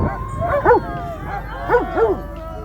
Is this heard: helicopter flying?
no